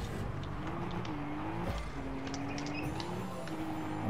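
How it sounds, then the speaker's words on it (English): In the video game Fortnite, a car engine drones at low volume with its pitch slowly rising and falling as the car is driven, and there are scattered small clicks and game effects. "I couldn't control my car."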